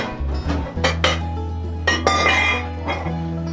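Amaretto chocolate almond brownie batter is stirred in a bowl, with a spoon knocking and clinking against the sides in a loose, uneven rhythm, close up.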